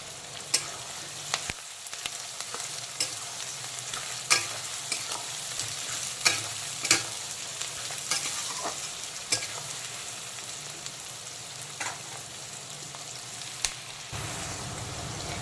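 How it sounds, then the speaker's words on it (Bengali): Chopped onion, with a spoonful of sugar, frying in a pan, heard as a continuous close sizzle broken by frequent sharp stirring clicks and scrapes, with no voices. "পেঁয়াজ কুচিটাকে প্রথমে হালকা বাদামি কালার করে ভেজে নেব"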